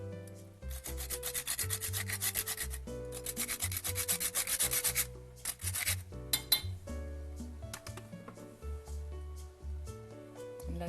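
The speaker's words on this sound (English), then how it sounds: "I'm going to grate in a little bit of nutmeg." Nutmeg is rasped on a grater over a pot of New England clam chowder with bacon and shrimp, giving repeated scratchy strokes in two main bursts over a steady tonal background, then fading to lighter scraping.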